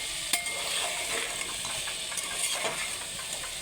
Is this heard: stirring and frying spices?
yes